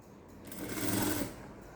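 A sewing machine stitches a princess-cut blouse in one brief, close whirring burst that swells and fades within about a second.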